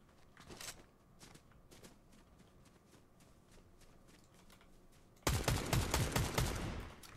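Fortnite Zero Build gunfire in a PC match: a few scattered single shots early, then a sudden loud, dense burst of rapid automatic fire near the end, with no talking.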